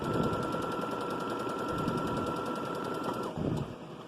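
A sewing machine runs fast and steadily while stitching a French seam on a cowgirl costume, a close, continuous rattling hum that slows and stops near the end.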